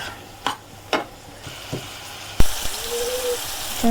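Chilli, salt and radhuni spice mix are sautéed in a pan. A few separate scrapes and clicks come first, then a steadier frying hiss builds, with a faint thin tone running through it.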